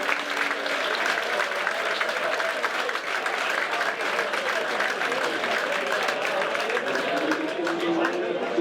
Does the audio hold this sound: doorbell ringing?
no